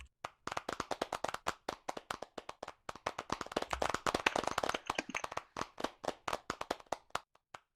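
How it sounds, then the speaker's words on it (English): Audience at an awards ceremony clapping steadily as a presenter comes up on stage, dense overlapping claps that thin out to scattered hands near the end, with no talking. "give him a clap as he comes up on stage"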